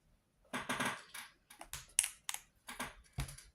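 A tarot card deck is cut and shuffled close by, giving a quick series of crisp card snaps and riffling bursts with short pauses in between, quiet and with no voices.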